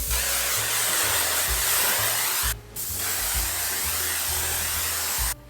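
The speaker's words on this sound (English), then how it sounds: "you can go in with a hairspray, and I'm just gonna spray it all over" Hairspray hisses in a long, steady spray, breaks off briefly, then resumes and stops abruptly near the end.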